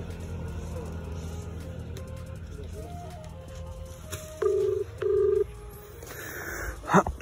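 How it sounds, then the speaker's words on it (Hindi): A mobile phone call being placed: a few soft keypad-like beeps, then two steady ringback tones, each about half a second long, over faint traffic rumble, with a brief sharp blip at the end. "चलो कॉल लगाते हैं रुपम भाई का।"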